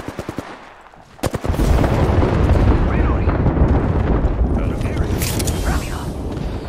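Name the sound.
gunfire in a shooter video game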